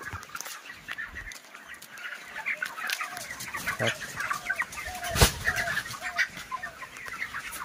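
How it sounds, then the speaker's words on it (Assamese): A barn full of 28-day-old broiler chicks on a raised farm platform fills the air with dense, continuous peeping and chirping, steady and fairly loud throughout, with no speech. "এই 28 দিনৰ পোৱালি গ্ৰোথ চাওক কি ধুনীয়া হৈ আছে"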